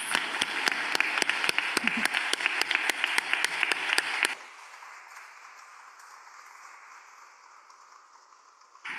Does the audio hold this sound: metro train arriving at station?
no